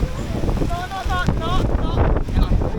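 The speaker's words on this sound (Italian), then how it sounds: "Il vento che tira, ne vogliamo parlare." Strong wind buffets the microphone on a bridge in Munich, a loud gusty low rumble throughout, while people talk and exclaim over it.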